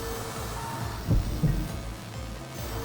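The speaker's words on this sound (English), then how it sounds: "With a thump, a remarkably loud heartbeat echoes in my ears." A loud heartbeat thump from the video game Fate/Extra CCC: two deep, close thuds in quick succession, like a single lub-dub, over a constant low droning backdrop.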